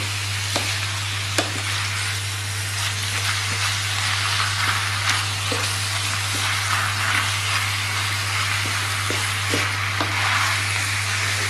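Minced meat and a clove of garlic fry in a pan, a steady dense sizzle running throughout with occasional scrapes and clicks of stirring over a low constant hum.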